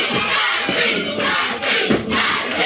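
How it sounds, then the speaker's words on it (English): A big wrestling arena crowd roars steadily, with swelling rhythmic bursts of chanting rising out of the continuous din. "You can hear the fans. They're chanting for Dusty now."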